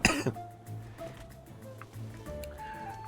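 A single loud, harsh cough bursts at the very start from someone who has had a lingering cough for years, then fades into quiet background noise.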